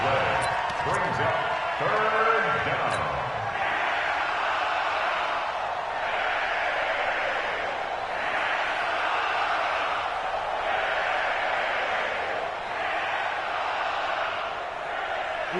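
A stadium crowd in a PS4 American football game swells in rhythmic waves of cheering before a big third down, with pulsing surges every two seconds after a commentator's voice at the start.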